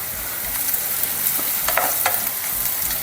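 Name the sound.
onions frying with turmeric, stirred in a pan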